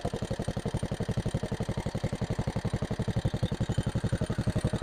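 A small engine drives a garden water pump, running hot with a steady, rapid, close-up chugging pulse that holds even throughout.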